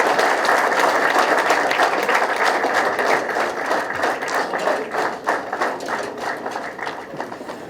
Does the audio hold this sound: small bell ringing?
no